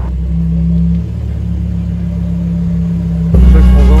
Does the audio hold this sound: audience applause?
no